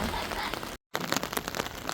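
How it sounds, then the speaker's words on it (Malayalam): Heavy rain falls while someone walks, a dense close patter of drops crackling on surfaces, broken by a brief cut of silence before the downpour resumes. "മഴ ശക്തി കൂടിയിട്ടാ"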